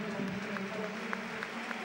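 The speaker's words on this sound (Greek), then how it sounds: "Θερμό χειροκρότημα και για τον Τζιμπούρ από τους φίλους του ΑΠΟΕΛ." Crowd at an APOEL football match applauding as striker Rafik Djebbour is substituted, a steady wash of clapping and murmur heard at moderate distance throughout.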